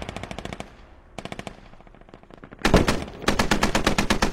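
Artillery barrage in a video game: dense strings of rapid, loud impacts and bursts, a first volley, a lull, then heavier, sustained rapid fire and explosions growing louder toward the end.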